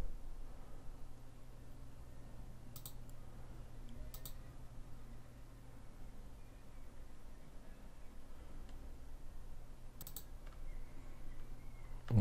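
A computer mouse clicks a few times while working in ZBrush, sparse single and paired clicks over a quiet steady room hum, with no talking.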